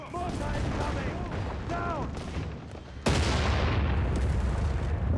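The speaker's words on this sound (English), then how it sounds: "Nice hit on the section here from the Stummel." Shells from a Stummel in Company of Heroes 3 land on an infantry section, heard as bursts of gunfire and thudding impacts, then a loud boom that leaves a dense roar. Someone talks over the first half.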